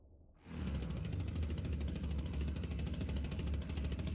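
A World War II fighter aircraft engine in Scramble: Battle of Britain kicks in abruptly and keeps up a loud, steady droning rumble with a fast throbbing pulse, alone without talk.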